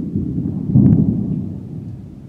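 Thunder rolls during a solo canoe camping trip: a deep, continuous low rumble that swells briefly partway through, then fades back to a steady distant roll.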